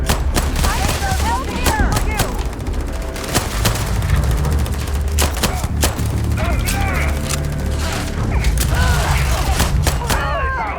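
Gunfire in the space game Starfield, loud bursts of rapid shots and heavy booms in dense combat, with a voice talking over much of the action.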